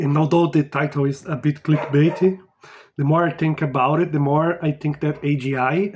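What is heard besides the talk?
None of the usual background noises is heard.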